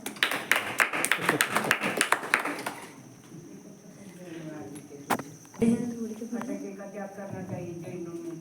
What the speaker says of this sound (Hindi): आदित्य जी जैन के लिए भी जोरदार तालियां हो।